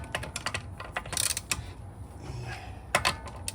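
A 21 mm socket wrench loosens the wheel lug nuts on a Tesla, giving a quick, irregular run of close metallic clicks and ratcheting ticks. Nobody speaks.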